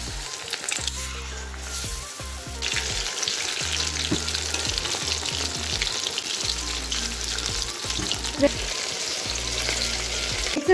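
Battered fish pakoras crackle and sizzle steadily in hot oil, close and continuous, with occasional stirring clinks and a low intermittent hum underneath, no speech.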